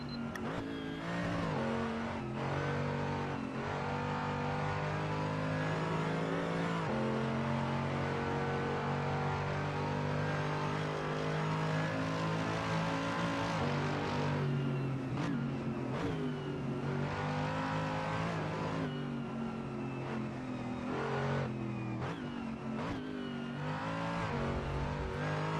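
Race cars accelerate hard at a race restart at the Red Bull Ring, their engines revving loudly and continuously with repeated gear shifts and pitch sweeps across the whole stretch, with no talk.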